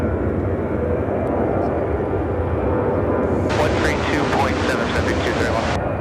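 A United Airlines Boeing 737-700 takes off at Chicago O'Hare, its engines making a loud, steady roar that fills the whole clip. A brighter burst of noise joins in during the second half, and people talk under the roar.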